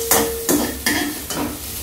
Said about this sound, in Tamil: இதை பாருங்க நல்லா வதங்கிடுது.